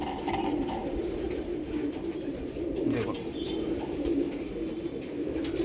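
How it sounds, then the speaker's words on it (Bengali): Andhra Tenali bloodline pigeons kept at a home loft cooing in low, repeated throaty calls, fairly close under steady background noise, with a brief spoken word. "এটা তেনালি থেকে পায়রা আছে, তেনালি, অন্ধ্রপ্রদেশের তেনালি যেটা আছে ওখানকার ব্লাডের পায়রা।"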